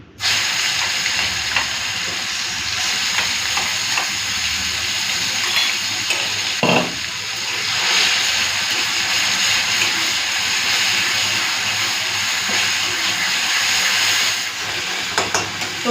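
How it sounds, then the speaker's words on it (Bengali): Paste of onion, garlic, ginger and green chili frying in hot oil with sugar and bay leaf, a steady close sizzle and hiss throughout, with a brief clatter of stirring partway through. "তেলের মধ্যে দিয়ে দিচ্ছি চিনি আর দেবো তেজপাতা দিয়ে দিচ্ছি পেঁয়াজ রসুন আদা কাঁচা লঙ্কা বাটা"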